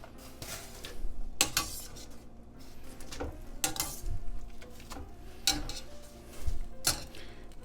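Cooked pappardelle pasta is tossed into sauce in a pan, with irregular metallic clanks and scrapes of utensil on pan at close range, no voice.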